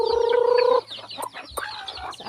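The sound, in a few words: chickens clucking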